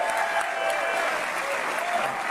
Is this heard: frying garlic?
no